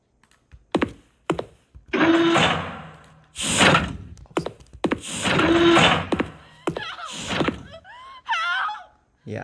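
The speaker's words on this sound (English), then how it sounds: "So now I can open the door." A door opening in a Unity3D survival game: a series of dull thunks and clunks in separate bursts, fairly close and loud, with a few short sharper knocks near the end.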